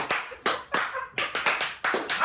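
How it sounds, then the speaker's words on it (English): About nine sharp hand claps ring out close by, sounding in an uneven rhythm with short gaps between them and no other sound. "I can clap the loudest."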